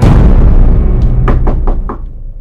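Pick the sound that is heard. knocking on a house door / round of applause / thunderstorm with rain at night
knocking on a house door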